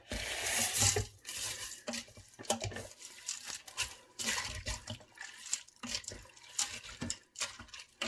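Broth and noodles for beef stroganoff are stirred inside a pressure cooker, giving close, wet sloshing and scraping in irregular bursts with brief pauses, and no one talks.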